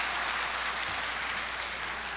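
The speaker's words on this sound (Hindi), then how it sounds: "दोस्तों ये शायरी अगर पसंद हो तो जोरदार एक मर्तबा तालियां बजाएं आप" Sustained applause from a crowd at an Urdu poetry mushaira in Jeddah, a dense, steady wash of clapping with no break.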